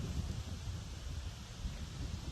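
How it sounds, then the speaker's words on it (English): Steady, gusty wind blows outdoors in a garden, a dense, unbroken rush of noise buffeting the microphone throughout with no other distinct sounds. "it's too windy out here"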